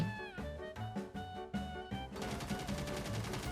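Bursts of rapid gunfire in the mobile tactical shooter Rainbow Six Mobile, quick rattling volleys mixed with tonal game sounds, fairly faint and continuous toward the end.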